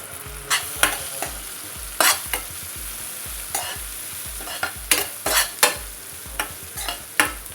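Onions fry in a pan with a steady soft sizzle, broken by repeated sharp scrapes and clanks of a spoon stirring at an irregular rhythm, close and with no talking.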